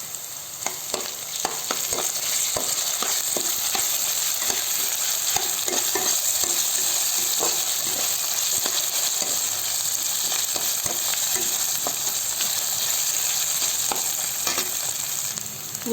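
Ginger garlic paste fries in hot oil in a pan while khichdi is being made, a loud continuous sizzle with a spoon stirring and scraping through it, no talk.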